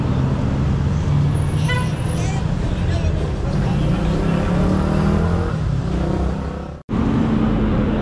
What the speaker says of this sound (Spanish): Ahora la cantidad de tráfico.